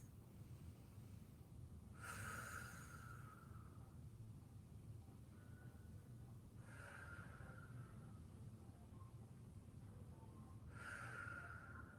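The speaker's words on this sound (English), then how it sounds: "Few deep breaths." Slow, deep breaths during a yoga stretch, three long airy exhalations spaced a few seconds apart, close to the mic with no talking.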